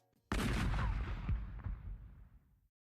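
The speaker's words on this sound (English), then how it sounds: "was that the cannon?" A single loud cannon blast in the video game Shin Megami Tensei: Devil Summoner: Raidou Kuzunoha vs. the Soulless Army booms suddenly and rolls off into a long rumbling decay, with no voices.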